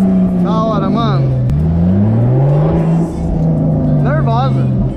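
A Porsche V6 engine revs hard and close, its pitch climbing and dipping in loud, sustained surges over a few seconds, with brief higher whines riding on top and no speech.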